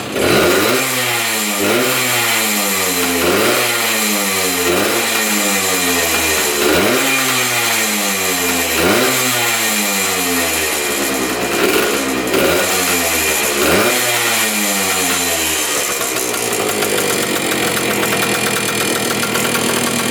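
A restored 1972 flat track motorcycle engine runs loud and close, revving repeatedly in rising and falling surges before settling into a steady idle, with no voices.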